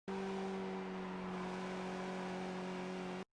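A Skip Barber race car in iRacing at Canadian Tire Motorsports Park exits a turn under throttle, its engine holding a loud, steady buzzing drone that cuts off abruptly at the end.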